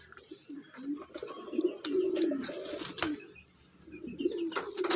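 Fancy pigeons coo in a village loft, soft low rolling coos rising and falling over a few seconds, close by, with faint chirps and light background noise.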